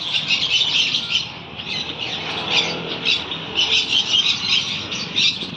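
A dense, continuous chorus of shrill squawks and chirps from many parrots, cockatiels and pigeons, loud and close, inside a busy bird shop.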